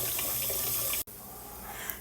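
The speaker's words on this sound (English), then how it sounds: "I'm going to fill my pot halfway with water" Tap water runs steadily into a cooking pot being filled halfway, a close, continuous splashing rush that cuts off briefly and resumes more softly.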